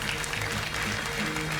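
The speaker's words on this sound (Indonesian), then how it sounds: "Kita berikan tepuk tangan pada Ibu Titin." A studio audience at a televised talk show applauds in a steady, moderately loud burst of clapping with no voices over it.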